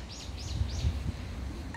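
Several soft chirping bird calls repeat at an even pace against a quiet outdoor background, fairly distant and faint.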